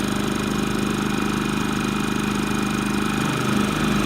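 A Champion dual-fuel inverter generator runs in economy mode, giving a steady, even mechanical drone with a constant buzzing hum, heard up close at the exhaust port without any pause or talking.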